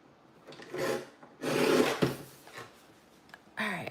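Cardstock is cut for a handmade card in a few separate scraping, rasping strokes with short pauses between them, close and fairly quiet.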